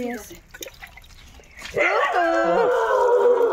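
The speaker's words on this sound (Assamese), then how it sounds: "কুকুৰটো একদম আমি অহা দেখি চিঞৰ বাখৰ কৰিছে" A dog outdoors at a home lets out a loud, close, drawn-out howl with wavering yelps. Before it, quieter dripping and splashing water is heard as a scooter is washed nearby.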